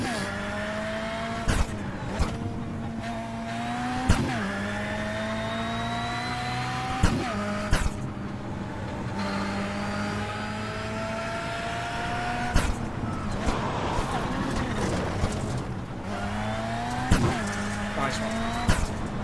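A Formula Vee race car driven on track, its engine droning steadily with harmonic tones rising and falling through gear changes and revs, punctuated by brief sharp clicks over about twenty seconds.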